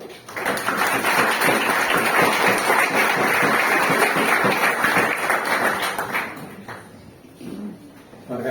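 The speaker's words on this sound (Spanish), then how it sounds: "un fuerte aplauso para nuestro queridísimo e ilustre conferenciante" A hall audience gives a long, dense round of applause for a speaker at a Santiago proclamation event, loud and sustained for about six seconds before fading into scattered claps and murmurs.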